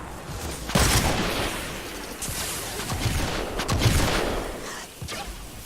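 Sniper rifle fire in Fortnite Save the World cracks out in several loud, booming shots spaced a second or so apart, layered over dense game combat noise with no talking.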